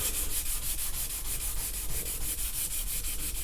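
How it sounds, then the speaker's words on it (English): Steady rhythmic scrubbing with 320 grit sandpaper on car bodywork, a continuous close hissing rasp with regular back-and-forth strokes and no talking. "I got my 320. Just want to start sanding."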